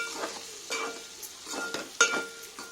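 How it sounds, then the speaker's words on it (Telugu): Paneer pieces frying in a pan, stirred and turned with a utensil; soft sizzling under a few brief scraping strokes, moderately close, with no talk. "మన పన్నీర్ ముక్కలు తిప్పి వేసుకోండి, మళ్ళీ ఒకసారి కలుపుకొని తిప్పండి"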